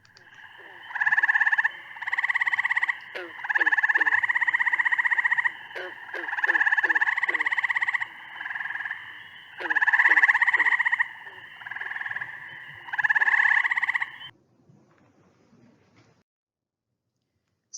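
Frog calls in Ohio come as a series of loud, buzzy, trilled bursts, each lasting a second or two and separated by short gaps. A second, fainter frog clicks in the background, then the calls stop into near silence.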